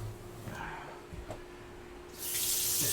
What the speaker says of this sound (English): Just gonna wash the hands here.